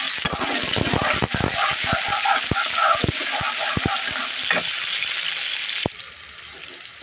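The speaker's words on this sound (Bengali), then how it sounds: "চিংড়ি মাছটাকে ভেজে নেব।" Shrimp frying in a pan, a steady loud sizzle with clattering stirring knocks throughout, the sizzle dropping a little toward the end.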